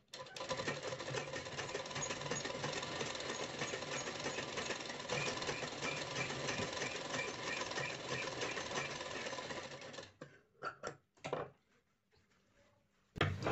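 A sewing machine stitching along both sides of a blouse neck strip, running close and steady with a rapid mechanical whir, then stopping for a few handling clicks and knocks.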